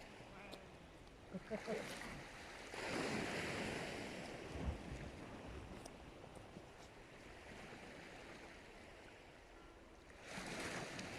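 Waves wash steadily against a shore at tide change on the Isle of Wight near Fort Victoria, with gusts of wind buffeting the microphone, a continuous surging roar that swells and eases.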